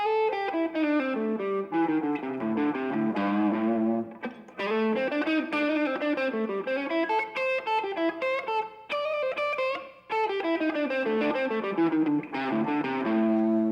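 Distorted electric guitar plays a continuous chromatic blues scale run sliding up and down across octaves, with bends and half-step slurs, close and loud, no talking.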